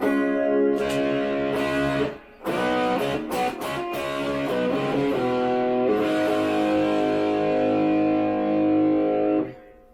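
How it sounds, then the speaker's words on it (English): Sustained electric guitar chords ring out through a warm, bluesy overdrive from a Strymon Riverside pedal, with a few choppy strums before the notes fade. "This channel 2 is more of a little heavier distortion, but more like a bluesy type distortion"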